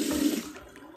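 Water splashing and rinsing over a face after a shaving pass with a Feather AS D2 safety razor, a short close burst of running, sloshing water that fades quickly.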